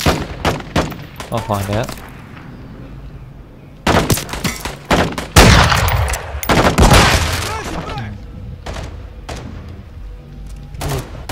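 Bursts of gunfire from Call of Duty MW2 Warzone DMZ gameplay, with several loud volleys and single shots clustered in the middle and later stretch, mixed under a player's talk.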